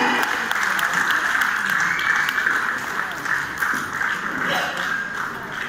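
Wedding guests at a Christian wedding reception clapping together, a steady crowd applause holding throughout with a few sharper taps and a faint voice underneath.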